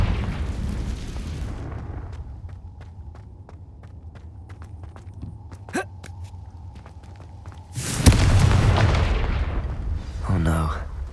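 A Confringo spell bursts in Hogwarts Legacy, a sudden loud blast with a broad roar that lingers and fades over a few seconds, following quieter rhythmic game sounds and a faint voice.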